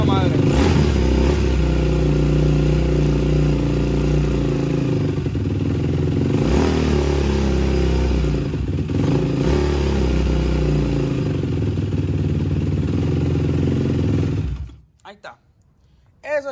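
Yamaha YFZ450 quad engine idling roughly and revving close by, a steady loud mechanical drone with a few throttle swells, ending abruptly near the end as it cuts off.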